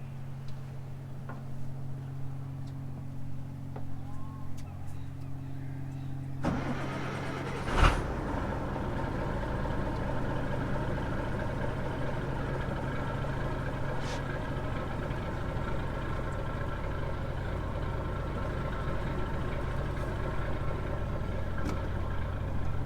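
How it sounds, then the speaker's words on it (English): A fishing boat's main engine on a longline vessel starts partway through, then settles into a steady, loud idle as it warms up, a sharp transient marking the startup and a continuous low drone persisting to the end. "we'll get fired up here and let our main warm up for a minute"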